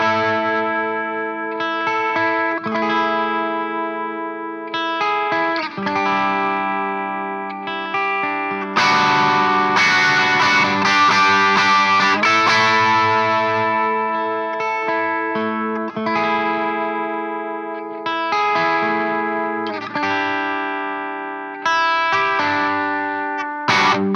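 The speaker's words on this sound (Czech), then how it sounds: "takže se dostanete v podstatě od čistého zvuku až k takovému krásně crunchovému zkreslenému." Electric guitar played through a LeeHooker Color Trip Vintage Overdriver pedal, shifting from clean tone to crunchy overdriven distortion: loud strummed chords and ringing riffs with sustained notes, heard alone with no talking.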